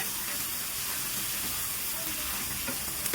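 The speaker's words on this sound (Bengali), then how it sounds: "আমি শাকটা দিয়ে মাছটা এখন ভালো করে নেড়ে নেব।" Prawns and boiled red amaranth greens stir-fry together in a pan, giving a steady dense sizzle and hiss with occasional faint scrapes of stirring.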